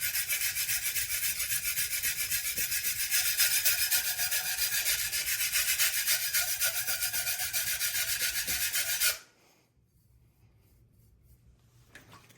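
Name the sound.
chef's knife being sharpened on a whetstone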